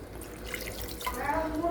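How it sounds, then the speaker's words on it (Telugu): Water poured into a simmering potato masala curry made with curd to form gravy, a steady close splashing and trickling that grows fuller toward the end, with no talk. "నాకైతే గ్రేవీ కావాలి, అందుకే కొంచెం వాటర్ పోసుకుంటున్నాను."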